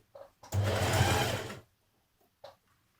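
A sewing machine back-stitches a cardigan seam at the underarm with one continuous whirring burst of about a second, close and loud, framed by soft handling clicks.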